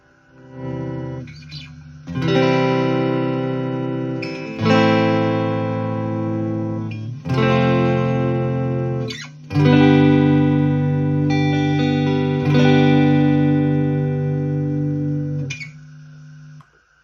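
A Squier Stratocaster Classic Vibe '50s electric guitar plays a clean tone through a Fender Frontman 25R amp with light reverb. Several ringing chords and arpeggios are separated by short pauses, close and fairly loud, with no voices.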